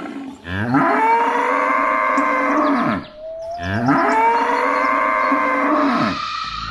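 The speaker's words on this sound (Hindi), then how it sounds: "ये तो मेरी गाय की आवाज है।" Two long, loud moos from a cow in pain, strained and drawn out, with a short pause between them.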